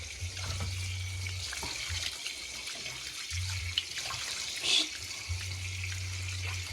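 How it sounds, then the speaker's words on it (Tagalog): Tap water runs steadily into a sink while a stone fish is rinsed under the faucet, a continuous hiss with a brief louder splash near the end, along with intermittent low humming. "Hugas natin ito ngayon sa gripo."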